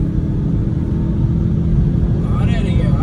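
Steady low rumble of a tuned Skoda Octavia vRS with a 2000 cc engine during a rolling drag race, loud and droning throughout, with a faint rising whine near the end. Someone talks over the engine noise.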